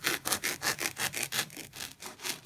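Steady back-and-forth cutting strokes as the sides of a topiary form for a wedding are trimmed down into a circle, about a dozen rhythmic rasping passes, close and fairly quiet with no talking.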